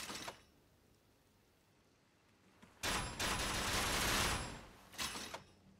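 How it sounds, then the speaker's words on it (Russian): Rapid-fire crossbow volley in Elden Ring: Shadow of the Erdtree, a loud dense burst of bolts lasting about two seconds, then a shorter second burst, over quiet background. "При активации поверните ручку, чтобы быстро выпустить во врага несколько болтов."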